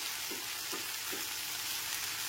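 Potato, cauliflower and onion stalks fry in a pan without water, giving a steady, even sizzle with faint soft stirring pulses throughout.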